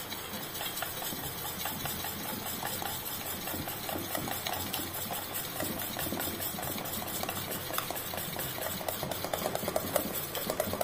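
A spoon stirs batter mixed with half a spoon of soda for dhokla, a steady scraping, whisking clatter that runs continuously and loudly against the bowl with no talking.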